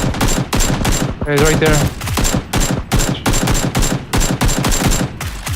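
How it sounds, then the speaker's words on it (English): Rapid bursts of automatic gunfire from the battle-royale game PUBG, loud and close, firing in quick repeated volleys across the whole stretch while a player speaks briefly over it. "I'm gonna go start shooting."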